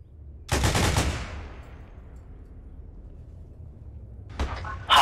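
A mounted machine gun in the ArmA military game fires a loud rapid burst of about half a second that fades into a long echoing decay, then a second burst starts near the end.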